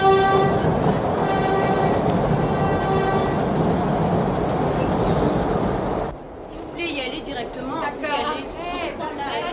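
A subway train rumbles steadily with a sustained horn-like tone over the first six seconds, then the engine noise drops and overlapping voices and chatter take over.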